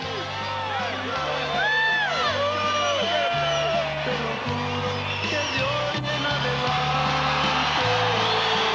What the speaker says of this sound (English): Johnny Tapia's crowd erupts as their man steps into the ring